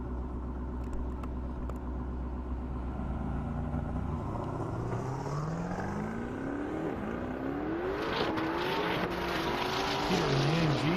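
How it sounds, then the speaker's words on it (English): A Mercedes AMG makes a drag run down an airport strip, its engine rumbling at idle before revving and climbing through rising gear pulls, loud and close with a brief shift dip. "Peter in the AMG making a good run for it."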